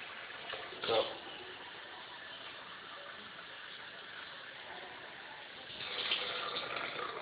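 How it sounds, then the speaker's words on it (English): Tap water runs into a measuring cup for cooking rice, a steady soft splashing stream that swells slightly near the end, with faint talk at moments. "add a cup and a half of water."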